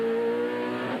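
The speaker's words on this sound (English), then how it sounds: "The leading car coming in for its pit stop." Race car engine roaring steadily and loud at close range during a pit stop at the 1992 Bathurst 1000 motor race, a sustained harmonic whine with no speech.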